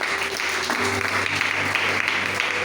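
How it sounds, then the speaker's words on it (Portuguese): A church congregation claps together during a service, a steady dense patter of many hands at moderate volume, with a low hum and faint voices underneath. "Vamos aplaudir Jesus, igreja."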